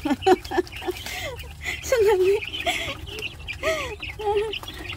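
Chickens being fed on a farm cluck and chatter close by in short, overlapping calls, with a voice talking among them.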